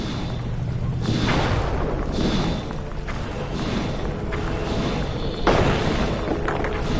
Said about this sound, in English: The R1 button fires your turret.